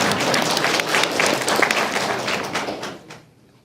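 Students at a school quiz competition clap for the teams that answered correctly, a dense burst of clapping that holds steady and then tapers off to quiet.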